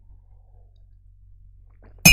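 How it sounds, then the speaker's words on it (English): A drinking glass dropped indoors, landing with a single sudden, loud clink and clatter right at the end after near silence. "Oops, I just dropped my glass."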